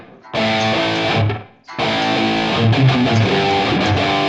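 Distorted electric guitar plays a verse riff: a thick, chugging chord phrase breaks off briefly, then picks up again with added melodic fills, loud and upfront.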